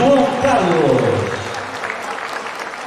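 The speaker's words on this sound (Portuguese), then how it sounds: "Aplausos para número 21, João Carlos." Crowd applause at a bodybuilding contest, the Ponchet Classic 2011, greeting an athlete, steady clapping under an announcer's amplified voice that fades out early on.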